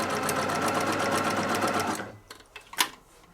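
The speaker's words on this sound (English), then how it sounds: "Hear it too, a little bit thicker stitching." Home sewing machine stitching through the thick handles of a machine-embroidered tote bag, a steady loud rapid whir for about two seconds that stops abruptly, followed by a few faint handling clicks and rustles.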